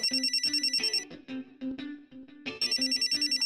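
A phone's electronic ringtone trills in a repeating pattern, pauses for about a second and a half, then starts ringing again.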